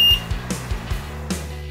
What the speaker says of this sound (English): Cal angle will appear on the page after beep sound.